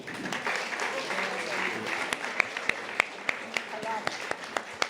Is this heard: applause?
yes